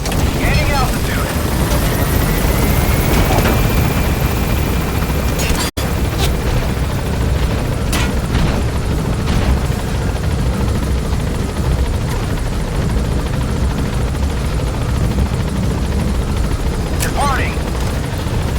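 Helicopter in the video game Metal Gear Solid V: The Phantom Pain, a steady loud rotor and turbine roar that holds throughout as the aircraft gains altitude, with a sharp brief thump partway through and faint radio-style voices over it.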